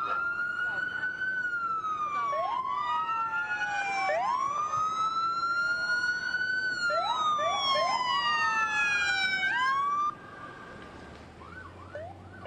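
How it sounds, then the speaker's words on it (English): Police car and ambulance sirens wail together, their pitches sweeping up and down and overlapping, loud and continuous before dropping away abruptly near the end. "When that ambulance arrived this evening, we heard the sirens, of course, first"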